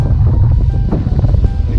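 Wind on a sailboat in the middle of the Indian Ocean, heard as a loud, steady rumbling roar buffeting the microphone, with faint rushing of water beneath and no talking.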